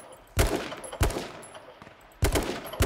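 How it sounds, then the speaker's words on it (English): Gunfire in the survival video game H1Z1 cracks out as three sharp, loud shots with lingering noisy tails, two close together and one after a longer gap, with no talking. "Their shots are hitting the rock"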